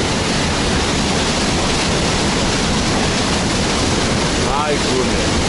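Victoria Falls in Zimbabwe roars as a steady, loud, broadband wash of falling water that fills the whole clip without letting up.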